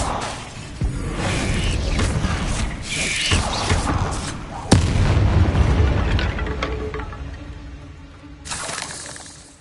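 Confringo blasting spells in the Hogwarts Legacy video game: repeated loud booming explosions with crackling, shattering debris, one sharp bang midway and a final burst near the end.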